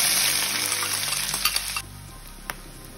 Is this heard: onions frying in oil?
yes